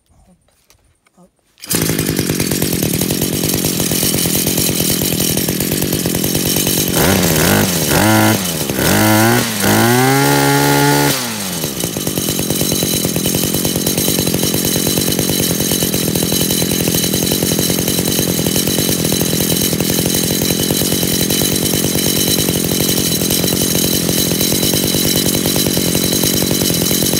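A new petrol brush cutter engine runs steadily and loudly at close range, rising in a few quick revving bursts before settling back to an even idle-to-high drone with no voices.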